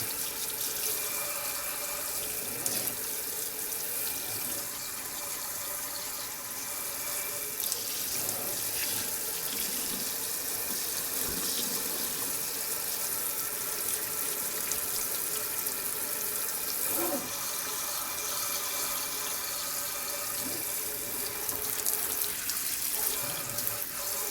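Warm tap water runs steadily from a faucet into a sink, rinsing a piece of laser-engraved wood, a continuous hissing stream with faint spatter changes and no talk.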